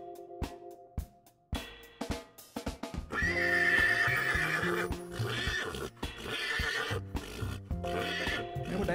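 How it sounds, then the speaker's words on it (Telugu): Horses outside the Ooty boat house: a loud, near whinny rises over clip-clop hooves and general outdoor bustle, with further neighs following. "బోట్ హౌస్ ముందే మాకు గుర్రాలు అయితే కనిపించాయి"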